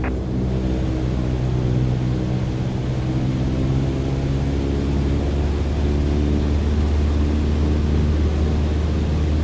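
Steady, loud piston propeller-engine drone in a Microsoft Flight Simulator light aircraft, its harmonic hum rising slightly as power is increased toward 2,300 RPM while holding 5,500 feet, continuous with no talk.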